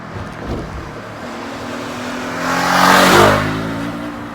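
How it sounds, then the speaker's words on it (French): A motorcycle engine revs up, its pitch rising to a loud peak and then dropping back, heard close with no voices. "sa moto elle faisait du bruit à 2000"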